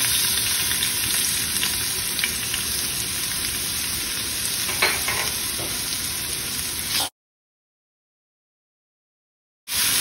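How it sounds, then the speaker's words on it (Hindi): Finely chopped garlic sizzles steadily in hot ghee with cumin seeds, asafoetida, whole dried red chillies and curry leaves, a close, dense crackling fry with occasional stirring ticks, cutting to silence for a few seconds before resuming. "लहसुन को गोल्डन ब्राउन होने तक हमें इसे फ्राई करना है।"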